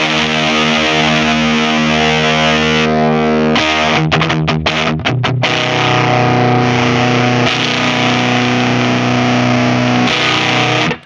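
Heavily distorted electric guitar chords through a Behringer HM300 distortion pedal on high gain ring out, with sustained notes broken by a burst of quick choppy strums midway.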